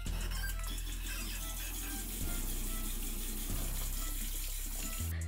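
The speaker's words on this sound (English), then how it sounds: "I'm just going to rinse with some lukewarm water" Lukewarm tap water runs steadily into a bathroom sink while a face is rinsed, a continuous close splashing flow with a few brief shifts and no talking.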